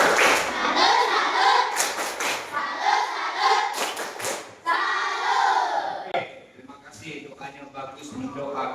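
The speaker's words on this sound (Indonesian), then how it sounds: "Tepuk salut." Schoolchildren chant in unison as they perform the tepuk salut clapping routine, with sharp rhythmic claps and group shouts from the children, which fade into softer, scattered voices toward the end.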